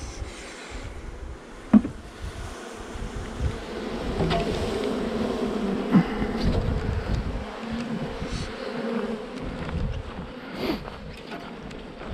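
A steady, dense buzzing of many honeybees fills the air, with a low rumbling drone underneath and a few sharp knocks scattered throughout.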